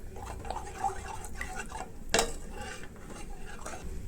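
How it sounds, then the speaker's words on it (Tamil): A spoon scrapes and stirs through thick mutton kofta curry with tamarind water in a metal pan, with one sharp clank of utensil against the rim midway. "எல்லாமே நல்லா மிக்ஸ் பண்ணி விடணும்."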